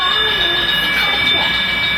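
A toy train set running as a Christmas gift, giving a steady whirring hum with high, sustained whistle-like tones throughout, near and continuous.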